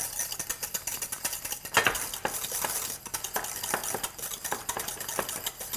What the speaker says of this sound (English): at this point, you want to whisk really fast